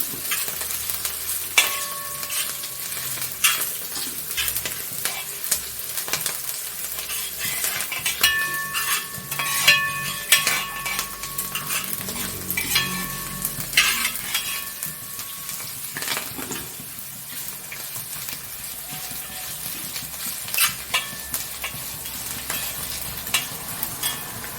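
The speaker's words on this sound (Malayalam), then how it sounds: "നല്ലപോലെ ഒന്ന് ബ്രൗൺ കളറാകുന്നിടം വരെ നമുക്ക് ഇതൊന്ന് വഴറ്റിയെടുക്കാം." Lemon pickle ingredients sautéing in a pan until browned, with a steady close sizzle and frying hiss, broken by repeated scrapes and clinks of a stirring spoon against the pan, no talk.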